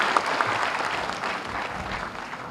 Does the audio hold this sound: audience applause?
yes